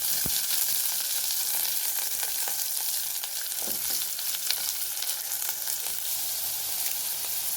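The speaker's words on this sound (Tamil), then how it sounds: "சட்டி வச்சாச்சுங்க. ஆயில் ஊற்றிக்கலாங்க. முட்டைக்கோஸ் போட்டுக்கலாம்." Cabbage frying in hot oil in a pan, a steady broadband sizzle that holds evenly throughout, close and continuous, with a few faint clicks of stirring and no voices.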